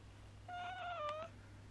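A single soft, close cat meow lasts under a second, rising then falling in pitch over a faint low hum.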